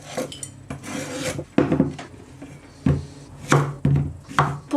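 Knife cutting through half a red onion on a board, a series of irregular rasping slices and dull taps at close range with no talk.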